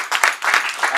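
Audience applause for a chef who made £60 on a £10 challenge at an entrepreneurship event, a short burst of clapping from a room of people, fairly loud and close.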